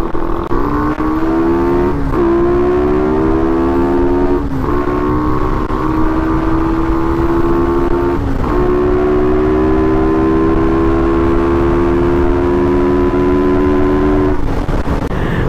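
A Raider 150 Fi motorcycle with an engine problem at high RPM rides through the Kaybiang Tunnel. Its engine drones steadily and loudly throughout, the pitch climbing between several brief gear-shift dips, with no talk.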